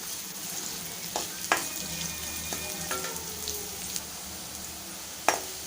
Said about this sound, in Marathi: कांदा नरम होईपर्यंत आपल्याला परतवायचा आहे।